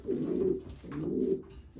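Breeder racing pigeons cooing nearby, two soft low throaty coos in a row, close and clear with no speech over them.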